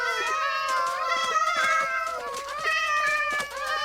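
A cream-coloured kitten in a video game meows in a high, tonal, drawn-out series of cries, loud and close, with a few short calls running together and no talk over them.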